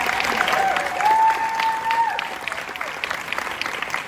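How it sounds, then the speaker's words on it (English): Convention panel crowd at San Diego Comic Con applauding steadily, fairly loud and close, with a sustained tone and a few scattered voices mixed into the clapping. "please give those shorts another round of applause"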